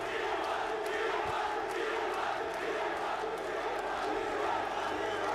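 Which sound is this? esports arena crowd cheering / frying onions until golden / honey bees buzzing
esports arena crowd cheering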